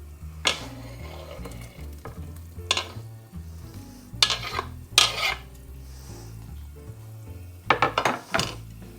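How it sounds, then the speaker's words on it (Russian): Mushrooms tumble into a hot pan with bursts of sizzling and scraping of a utensil, several separate clattery stirs over a quiet background. "И туда добавляем наши грибы."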